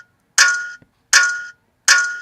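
A snare drum sample played in Reason through a band pass filter hits three times at an even pace, each a thin, metallic, ringing clang with a short decay and no low end.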